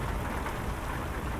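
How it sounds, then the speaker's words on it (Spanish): Rain falls steadily on a Hino 500 truck driving a foggy mountain road in Colombia, a dense, even hiss with soft patter, fairly quiet and unbroken over a brief moment. "Chicos, escuchen el sonido de la lluvia."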